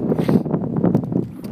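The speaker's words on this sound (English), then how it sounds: "extremely windy day out here." Wind gusts rumble and flutter against the microphone in uneven low bursts, loud and close, on a sandbar at low water, with no clear talking.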